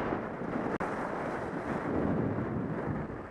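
Strong wind buffets the microphone on the Upper Tamarack ski slope at Stratton, a loud, steady, broadband roar that cuts out for a split second near the start before resuming unbroken.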